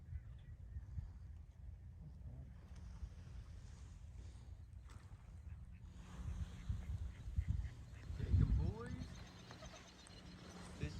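Mallard ducks quack during a hunt in a flooded corn field, faint and distant at first, then a short louder run of calls near the end, with people talking quietly and outdoor background noise.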